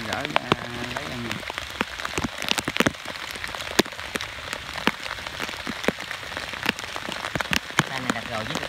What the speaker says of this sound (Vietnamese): trời mưa